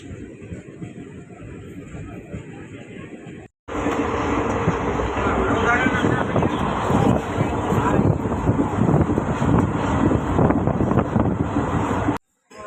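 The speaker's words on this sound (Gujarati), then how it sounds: "તો ચૂડા સ્ટેશનેથી ટ્રેન ચાલતી થઈ ગઈ છે." A train pulls away from Chuda station, rumbling steadily with rattling carriages and wind noise, building after a brief quieter stretch and cutting off abruptly near the end.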